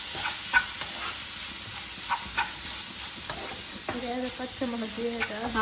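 Chicken curry is stirred in a pan, giving a low bubbling sizzle with scattered scrapes and clinks; a faint tonal voice-like sound drifts in near the end.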